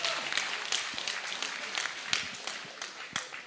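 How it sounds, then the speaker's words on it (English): A fight crowd applauds both fighters after a bantamweight MMA bout, with steady, fairly faint clapping and crowd noise and sharper individual claps scattered through the mix. "a round of applause for both of these athletes, please"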